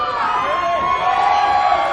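Wrestling crowd at an IWC show cheering and roaring steadily throughout, a dense continuous wall of voices with commentary running over it.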